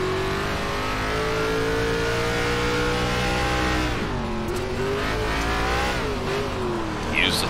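An ARCA race car in the iRacing video game drives on a dirt track, its engine droning loud and steady with gliding pitch shifts as the throttle is worked, revving up near the end.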